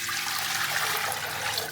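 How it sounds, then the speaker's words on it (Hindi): Water pours steadily into a cooking pot for a mutton and cauliflower curry, making a continuous close splashing gush for the whole moment. "2 किलो गोभी के हिसाब से मैंने इसमें पानी डाल लिया है"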